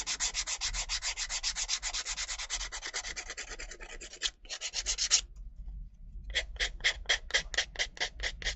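An emery board rubs quickly along the edges of an MDF craft tag, giving a close, steady rasping scrub that breaks off briefly, then returns as a run of short, evenly spaced strokes.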